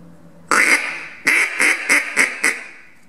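An ATN Zincall mallard duck call blown by hand, giving about six loud, close quacks alone: one long opening quack followed after a pause by a quick descending series of five shorter ones.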